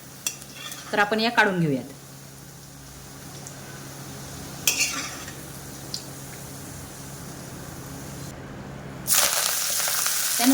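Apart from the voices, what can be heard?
green chilies being roasted crisp in a pan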